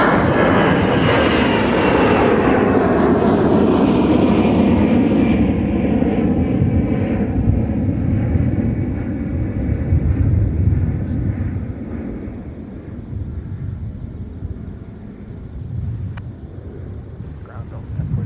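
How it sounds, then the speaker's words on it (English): A Delta jet airliner taking off from MSP airport, a loud roaring engine rumble that gradually fades as it climbs away into the distance. "There's Delta 1025 rocketing into the partly cloudy skies above, outbound for Denver."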